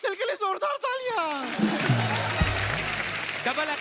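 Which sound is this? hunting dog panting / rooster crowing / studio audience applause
studio audience applause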